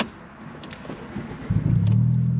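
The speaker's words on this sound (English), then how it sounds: "So now start the car again." Stick-shift car engine starting, a short starter churn followed by the engine catching into a steady low idle rumble, close by, with no talk.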